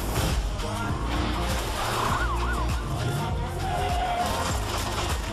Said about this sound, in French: La poursuite en voiture avec les balles qui sifflaient et qu'elle éclate.